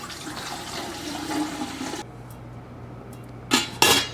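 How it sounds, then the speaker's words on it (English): Water runs and trickles into a Membrane Solutions water filtering system for about two seconds, then stops, leaving a low hum followed by two short, sharp splashes or clunks near the end. "hopefully this thing doesn't just start leaking as soon as I pour water in here"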